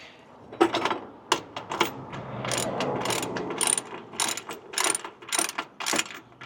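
A socket wrench ratchets on bolts of step sides fitted to a 2024 Chevy Colorado Trail Boss, giving a run of sharp, close clicking bursts in quick uneven strokes with short pauses between them.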